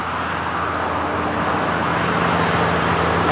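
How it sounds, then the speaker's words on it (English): A huge truck passes by outdoors near a woodland trail, a loud, steady low rumble of road noise that swells slightly as it goes by. "a huge truck just went by."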